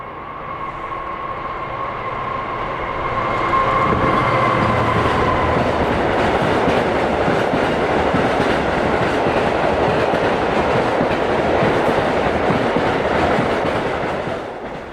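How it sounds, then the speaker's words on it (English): Class 66 diesel locomotive 66152 climbs through Keam in the Plymouth suburbs hauling about 1,100 tonnes of china clay freight, its engine swelling from a distant drone to a loud, close roar with rolling wagon noise, then easing slightly. "with around 1100 tonnes of clay in tow, 66152 climbs through Keam in the Plymouth suburbs"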